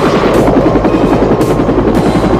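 A military helicopter evacuating soldiers in a Vietnam War film thumps with a loud, continuous rapid rotor chop, steady and close throughout.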